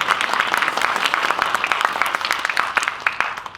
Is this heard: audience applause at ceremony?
yes